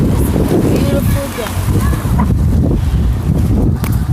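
Wind buffets the microphone steadily outdoors on a blustery day, a constant low roar and rumble running through the whole stretch, with a person talking over it.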